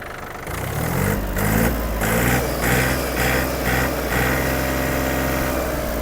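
A Yanmar AF-22 mini tractor's diesel engine runs loud and close, its revs rising then holding at a steady high rumble with a pulsing throb.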